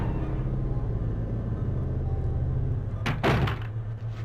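A door creaks open in the survival-horror video game Resident Evil 3: Nemesis, a short burst of rattling and scraping over a steady low ambient drone.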